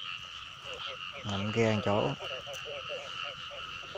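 Frogs croak in a drained rice field, with a steady pulsing chorus running throughout under a voice speaking nearby.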